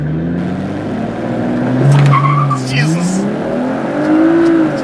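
A BMW 335i on a race track launches off the line with launch control, the engine note climbing through rising revs with a brief tire chirp, loud and close inside the car while a voice exclaims.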